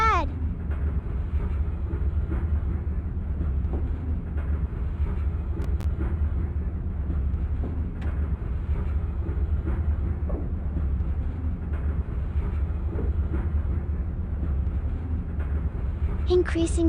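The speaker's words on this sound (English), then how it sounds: "The train is slowing smoothly, but the speed limit will jump up ahead." An Acela Express in a train simulator game rolls along the rails while slowing, giving a steady low rumble with occasional faint squeals and clicks, under narration.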